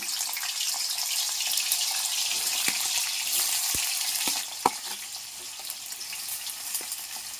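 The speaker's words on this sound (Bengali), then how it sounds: "আমি সাদা তেল দিয়ে করব আমি আলুটাকে প্রথমে একটু ভেজে নেবো" Potatoes frying in white cooking oil in a pan, a continuous hissing sizzle with a few scattered clicks and knocks, the sizzle easing slightly partway through, close, with no voices.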